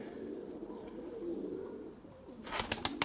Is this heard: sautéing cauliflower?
no